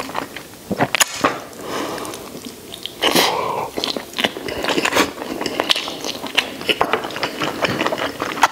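Close, wet biting and chewing on hand-held lamb ribs dipped in sauce, with a steady run of sharp crunchy snaps and smacking bites and no talking.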